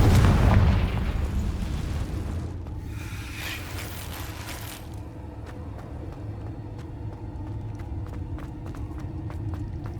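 A Confringo spell blast in Hogwarts Legacy: a loud booming burst at the start, then a rumbling low roar that fades into a steady hum with faint crackles.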